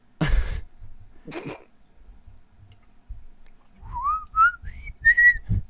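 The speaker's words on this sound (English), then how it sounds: "I can whistle, I swear." A person whistles a short rising-and-falling tune near the end, a few brief melodic notes following scattered coughs and throat noises, close to the microphone.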